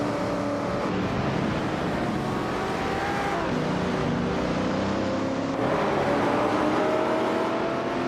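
Race cars overtaking in a racing video game, a dense, steady blend of engine drones with shifting pitches as several cars run close together, moderately loud and continuous.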